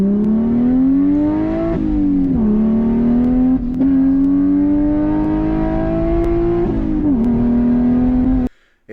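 A BMW engine revs loudly and steadily for several seconds, its pitch climbing and dipping through gear changes before cutting off abruptly at the end.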